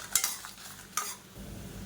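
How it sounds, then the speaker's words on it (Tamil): Dal and dried chilies scraped and stirred while dry-roasting in a hot pan, a few sharp scrapes and rattles over a faint background hum. "இது கூடவே சேர்த்து இதையும் நல்லா வறுத்துக்கலாம்."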